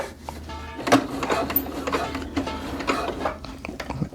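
Sewing machine stitching jogger fabric runs in a soft, steady whir with small clicks and rattles, fairly close and without speech.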